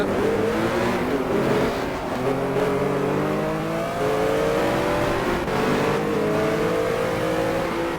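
A Porsche 906 race car engine in GT Legends revs hard and continuously, climbing through the gears with rising tones and brief dips at each shift, loud and close throughout.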